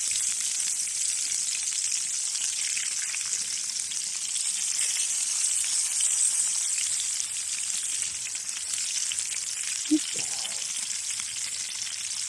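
Slightly salted sweet potatoes sizzle on a grill, a soft, constant hiss and crackle with a brief clunk near the end and no speech.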